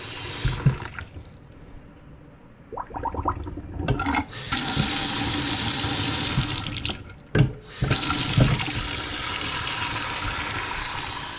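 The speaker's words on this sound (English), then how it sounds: "running the water." Water runs from a repaired sink faucet, a loud steady rushing stream that starts after some handling clatter, briefly stops and restarts, then flows continuously.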